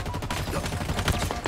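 Rapid gunfire from a Halo firefight rattles on steadily at close range, with a burst of louder shots near the middle and a faint voice under the clatter.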